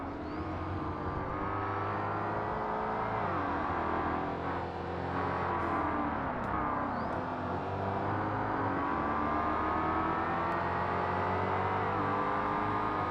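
Race car engines rev and drone continuously in a Forza Motorsport race, several cars running close together with rising and falling pitch as they accelerate and brake.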